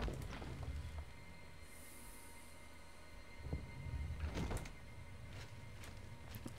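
A door opening in The Elder Scrolls IV: Oblivion, a soft creak and rumbling slide that swells midway and then settles, fairly quiet against a low background hum.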